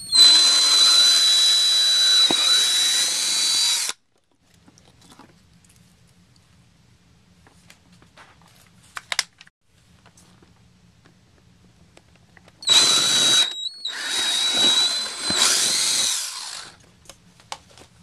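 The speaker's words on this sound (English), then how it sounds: "Okay, so now I'm going to start drilling." A power drill bores holes in a homemade aircraft cockpit panel, giving two loud whining bursts several seconds long separated by a long quiet pause with faint low hum and small clicks.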